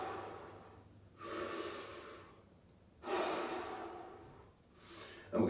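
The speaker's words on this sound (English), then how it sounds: "Take a couple of deep breaths up here." Deep, slow breaths taken standing tall during a back and hip mobility stretch: two long, loud inhales or exhales with airy rasp, separated by quiet gaps, and a third breath starting at the end, close and alone.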